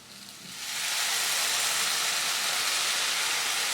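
Tamarind water poured into a hot pan of browned shallots for an onion curry bursts into a loud, steady sizzling hiss that rises within a second and holds.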